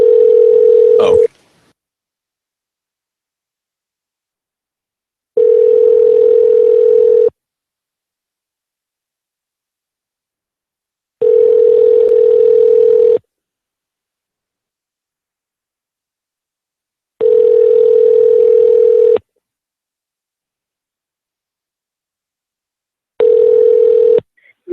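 A telephone call ringing out, five evenly spaced long tones separated by several seconds of silence, loud and close, with no voices.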